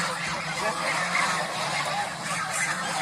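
A crowd of farm ducks quacks continuously and noisily, overlapping calls forming a dense, close chorus with no pauses.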